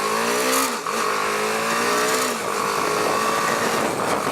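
A BMW G310R motorcycle pulls away in first gear, its single engine note climbing loud and close as the revs rise, briefly dipping twice before winding up again.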